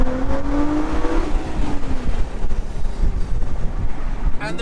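Nissan GT-R R35 driving hard under braking, engine note dropping as it slows, with rough exhaust crackle and heavy wind buffeting over the microphone; loud and close, no talk.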